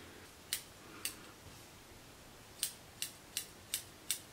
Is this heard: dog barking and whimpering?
no